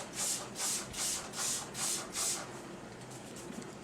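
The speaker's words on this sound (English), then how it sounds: "So I'm just going to spray the entire tank with this bleach solution." Six evenly spaced hissing bursts from a spray bottle misting bleach solution across a reptile tank, close and steady, then quiet afterward.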